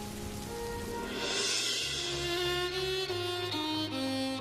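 Steady rain pours through a cartoon storm with lightning and flooding, a dense continuous hiss laid under sustained musical tones that shift pitch as the scene plays on.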